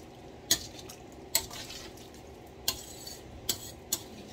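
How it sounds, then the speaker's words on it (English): Spoon stirring a Guyanese lime sour mixture of vinegar and lime in a pot: a handful of sharp, separate clinks against the metal, spaced irregularly over a quiet, steady background. "Give this a really good stir,"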